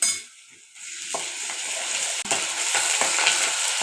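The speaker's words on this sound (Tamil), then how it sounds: "வெங்காயம், பச்சை மிளகாய், பூண்டு சேர்த்து வதக்கலாம்." Onion, green chilli and garlic are stir-fried in hot oil for an anchovy fish curry. A loud, close sizzle starts after a brief quiet moment and then holds steady, with occasional scraping clicks of stirring.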